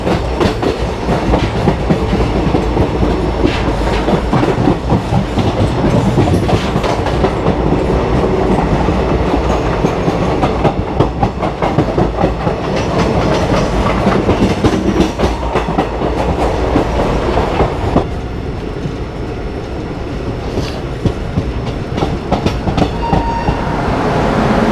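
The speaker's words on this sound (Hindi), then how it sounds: "कुछ लोग यहाँ से भी चढ़ेंगे इस ट्रेन में।" Shramjeevi Express passenger train rolling on rails in Bihar, a loud continuous rumble with steady clickety-clack of wheels over rail joints, the noise easing slightly toward the end.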